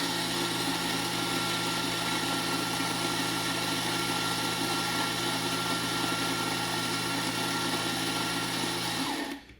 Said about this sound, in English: push and grind